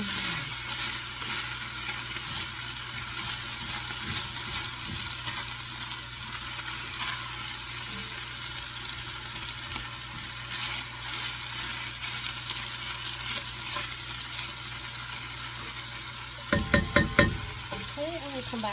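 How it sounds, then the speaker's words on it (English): Vegetables and potatoes sautéing in a pot for vegetable soup, a steady close sizzle running throughout with occasional scraping stirs and a brief louder clatter near the end. "and potatoes, and I'm going to saute it for another 5 minutes"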